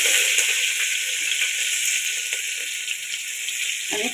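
Mustard seeds, cumin, ginger-garlic paste, green and red chillies and curry leaves fry in hot oil for a spinach masala dal, giving a steady, loud, close hiss throughout with a few faint pops and no talking.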